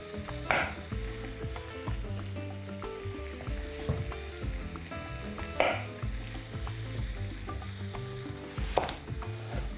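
Onion and zucchini fry in a pan with a steady, close sizzle that runs through the whole stretch, with a few sharper bursts of crackle and a tonal background underneath.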